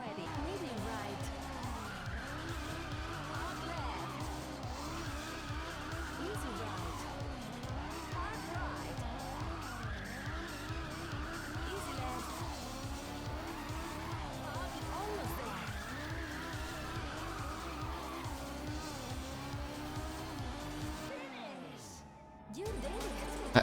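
Rally car driving a Spanish special stage in the video game Super Woden Rally Edge, its engine revving up and down in repeated rising sweeps with tire skids, loud and continuous until a brief dip near the end.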